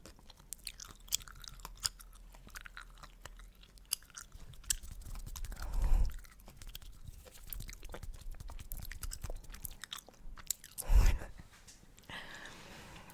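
Chewing cherry menthol gum close to the microphone, wet smacking and crunchy mouth sounds in an irregular rhythm with a couple of louder chomps, quiet and intimate.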